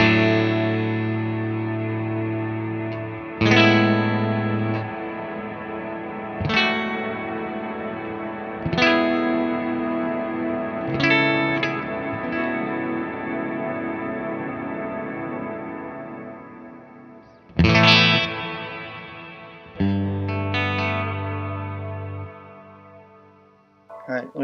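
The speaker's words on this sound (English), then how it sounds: "or you can take almost like an infinite type of reverb with this style." An electric guitar through a reverb pedal set to a near-infinite style plays slow chords whose tails sustain and overlap, keeping a continuous wash of sound between strums.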